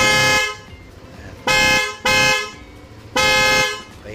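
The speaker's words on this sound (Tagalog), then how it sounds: "Balik tayo sa loud horn." An aftermarket loud horn accessory fitted alongside a 50-watt Gold Runway GR 50-X light sounds in four close, loud blasts, two short honks then a longer one, with brief gaps between.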